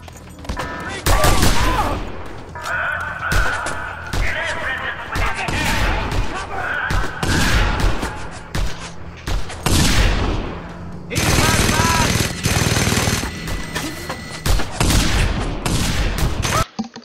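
Enemy machine gun fire in Just Cause 2 crackles in dense bursts and volleys for the whole span, mixed with heavy bangs and impacts. A voice talks now and then under the gunfire.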